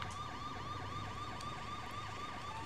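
A police car siren from The Lego Movie Video Game wails in fast repeating up-and-down sweeps, quiet and steady with no talking over it.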